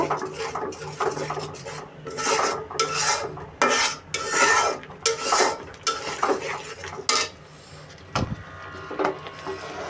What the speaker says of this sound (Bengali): এখন এটাকে ভালো করে নেড়ে চেড়ে একবারে কষিয়ে নিব